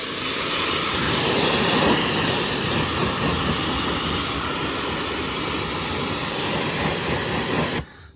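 A pressure washer blasts a car wheel in a loud continuous roaring hiss of water spray that holds steady for several seconds, then cuts off abruptly at the end.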